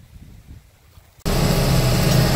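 Tractor engine runs loud and steady from inside the cab, a dense, constant mechanical drone that cuts in abruptly after a quieter stretch.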